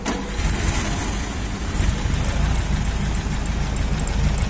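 Hydrogen-powered Volkswagen Beetle engine, started by remote control, runs with a steady loud rumbling idle close by, continuous throughout with no talk.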